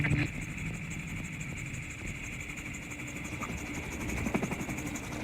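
Autogyro engine during landing, a steady droning hum with a persistent rotor-like whir, even and continuous at moderate level throughout, with no voices over it.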